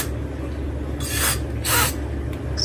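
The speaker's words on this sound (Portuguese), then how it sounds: "É óleo em spray." Cooking oil spray can in a home kitchen, giving two bursts of hissing spray about half a second long, close and fairly loud, then a brief faint third puff.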